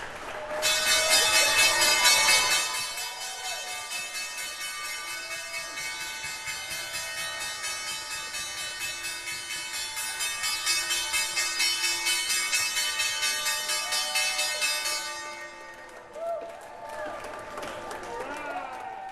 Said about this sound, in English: Both doing the honors for the closing bell on this Tuesday afternoon.